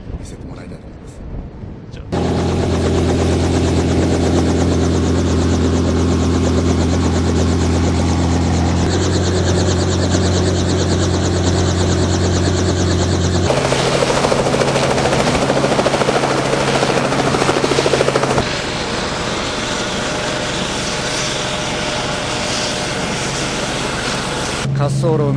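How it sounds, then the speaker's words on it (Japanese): An aircraft on a runway takes off for aerial filming over Tokyo, its engine a loud, continuous roar that fills the whole stretch with little change in level. "滑走路を抜け出して今 大きく空に飛び立ちました"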